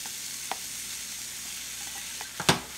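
Cauliflower rice frying with eggs and vegetables in a pan, a low continuous sizzle with a few scraping stirs and clinks near the end, close and fairly quiet, no talk.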